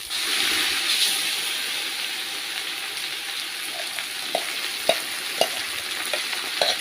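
Continuous sizzling and frying hiss from a pan of curry as ground spice paste is added, with occasional soft clinks and scrapes of a spoon stirring toward the end.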